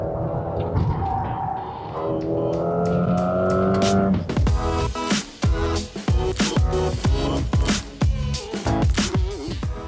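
A 2024 Mercedes-AMG GLA 35, a locally assembled compact performance SUV, revs loudly: a steady engine drone for four seconds, then harder acceleration with rapid revving bursts and gear changes, close and strong with no talk.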